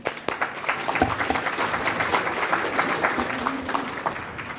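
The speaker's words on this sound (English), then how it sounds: "another round of applause, please" An audience gives a round of applause at a lunch gathering, a steady wash of clapping hands, fairly close and sustained throughout.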